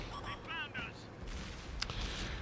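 Tank cannon rounds firing in a tank video game battle, a sharp booming blast with a few shorter reports under a commentator's voice and game sound.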